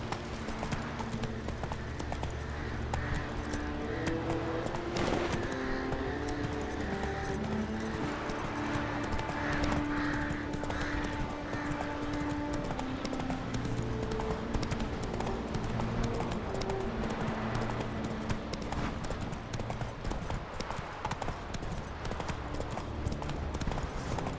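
Hooves of the horse Roach clatter at a steady gallop through the whole stretch in The Witcher III, a dense, continuous clip-clop under a layered game soundtrack and ambient noise, with no talking.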